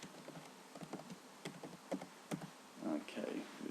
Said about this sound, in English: we need to type in the name here